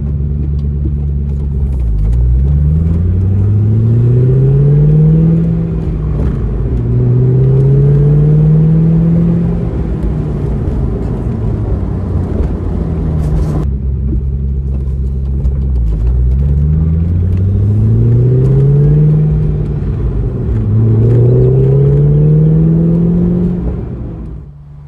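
A Panoz Esperante GTLM driving through Garden of the Gods Park, its engine loud and near, rising in pitch through repeated gear changes, easing briefly midway, then accelerating through the gears again.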